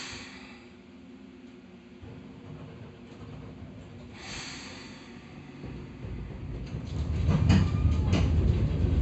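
Hakone Tozan Railway 2000 series resistor-control train running, a low continuous rumble with a faint motor whine that swells louder toward the end with rattling clatter.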